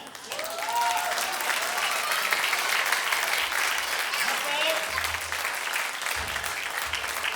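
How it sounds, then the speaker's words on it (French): Warm applause from a concert audience at a jazz performance by a wind ensemble, honoring a young saxophonist; steady clapping fills the room throughout, with voices and some cheering mixed in. "Je vous demande d'applaudir notamment notre jeune saxophoniste"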